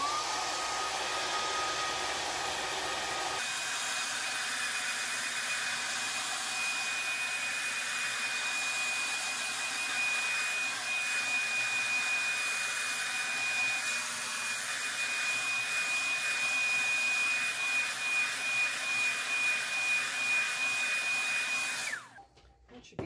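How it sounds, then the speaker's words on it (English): A hair dryer blows steadily and loudly for about twenty seconds while passed back and forth over antiqued metal wire jewelry, its airflow shifting once early on and cutting off abruptly at the end. "passing the dryer over the metal back and forth until it's dry to the touch"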